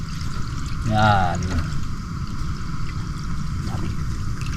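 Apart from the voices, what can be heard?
water poured into a pot for coffee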